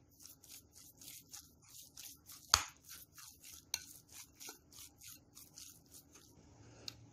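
Ground beef with garlic stirred in a pan, a regular series of soft scraping strokes roughly every half second, with a couple of sharper knocks against the pan, close and quiet with no speech.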